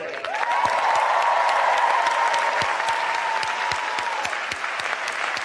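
Sustained applause from a commencement audience at Georgetown's 2023 law school graduation, a dense steady wash of many hands clapping that holds for several seconds at even volume.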